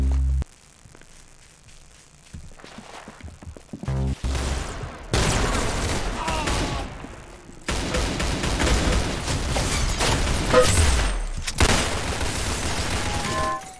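Gunfire from the Roblox game Arsenal comes in irregular bursts of shots and booms, some loud and some quieter, separated by short pauses, with no voices over them.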